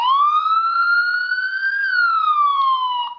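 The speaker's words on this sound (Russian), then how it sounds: "И вот такая вот дикая сирена" Blitzwolf BW-AT4 steel smartwatch sounding its alarm siren, a loud, continuous electronic wail that sweeps slowly up and back down for about three seconds, heard alone with no talking.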